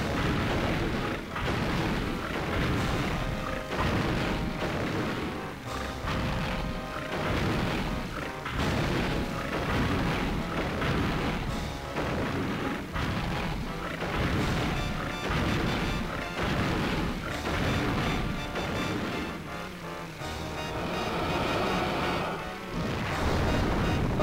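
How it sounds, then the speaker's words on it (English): Shockwave attack from Dogadon, the boss in Donkey Kong 64, producing loud, continuous crashing and smashing booms layered over busy game music and effects throughout. "Oh, yep, he has a shockwave attack"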